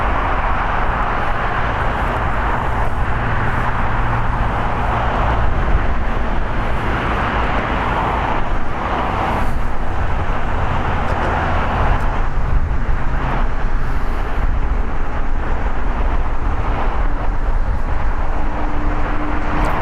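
A heavy jet airliner departing LAX airport makes a loud, continuous broadband roar that holds steady throughout, with a low rumble and some wind buffeting, heard alone without talk.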